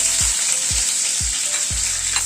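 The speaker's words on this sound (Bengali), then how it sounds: "পেঁয়াজ আর ক্যাপসিকামটাকে একটুখানি হালকা করে নেড়ে নিচ্ছি" Onion and capsicum stir-fried in a hot pan for a mustard chicken recipe, a steady loud sizzle with four regular spatula scrapes or stirs, close and without talk.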